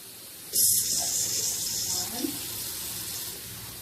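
Tap water runs steadily into a cooking pot for a beef curry stew, a loud hissing pour that starts abruptly and continues evenly for several seconds, close by.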